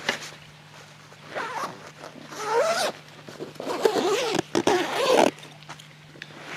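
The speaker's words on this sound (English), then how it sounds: "Let me zip it up here real quick." A zipper is drawn along a Trakker NXG 8 rod holdall for carp fishing in several quick rasping pulls with brief pauses between them, close up and fairly loud.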